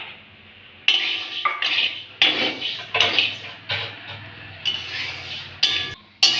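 Sago pearls rattling and scraping in a hot wok as they are dry-roasted for sabu luchi, a series of loud, brisk stirring bursts with short pauses between them, close up.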